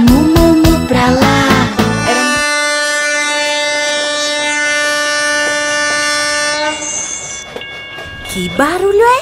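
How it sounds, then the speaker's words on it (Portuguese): A loud, sustained train horn blares for several seconds, rich and brassy, with a snatch of singing before it and an excited voice after. "É um barulho de um trem?"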